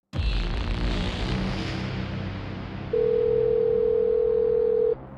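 A steady telephone dial tone drones for about two seconds after a stretch of noisy background, from repeated calls to a wounded soldier's phone near Bakhmut that go unanswered.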